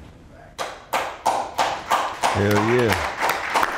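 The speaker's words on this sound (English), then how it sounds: "Damn, you started clapping." Several people clap in a room, a run of about ten sharp claps in a steady, quickening rhythm, loud and close, with a shout and laughing voices over them partway through.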